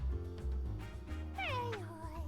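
Purrloin, a cat Pokémon in the video game Detective Pikachu Returns, gives a single gliding meow over soft game background music, clear and close.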